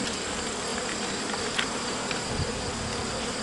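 Bees drone steadily around a hive in a hollow tree as it is opened and the honeycomb extracted, a dense continuous buzz filling the air with a few louder passes close by.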